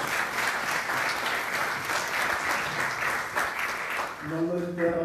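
An audience at a literary festival talk gives a steady, full round of applause for the speaker; near the end the clapping thins as a voice begins speaking over it.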